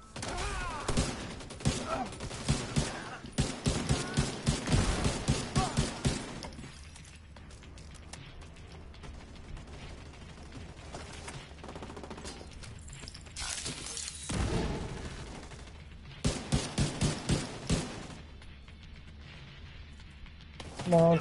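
Gunfire in The Division 2 during an online shootout, with rapid bursts of automatic fire early on, a quieter stretch, then more volleys and single shots, and a player talking over parts of it.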